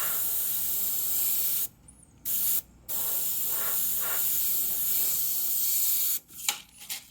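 An airbrush hisses steadily as India ink is sprayed onto Claybord for a portrait, broken by short pauses and a few quick bursts near the end.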